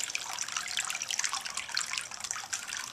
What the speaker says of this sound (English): So that's my water fountain.